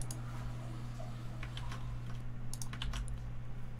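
Login credentials typed on a computer keyboard, a quick run of light, close key clicks in uneven bursts over a steady low electrical hum.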